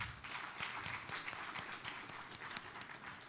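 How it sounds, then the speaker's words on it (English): Scattered audience applause at a student government election debate, a fairly faint patter of individual claps from a modest crowd, steady for a few seconds. "Can we get another round of applause for the Elections Committee"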